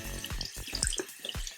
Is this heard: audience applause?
no